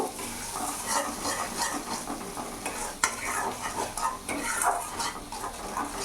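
Garlic frying over a medium gas flame in a pan for a tomato rohu fish curry, sizzling steadily while a utensil stirs and scrapes it with frequent clinks, no speech.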